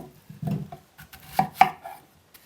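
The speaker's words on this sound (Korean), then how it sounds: "껍질을 벗겨서 한번 제가 이렇게 토막을 내볼게요." A knife chops a peeled apple into chunks on a cutting board, giving a few sharp, close knocks at an uneven pace with quiet gaps between them.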